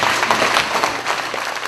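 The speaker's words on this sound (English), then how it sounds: "So we can give them a big round of applause." An audience applauds the United Arts Council in a steady wash of clapping that stays dense and even for its whole short length, with no voices rising above it.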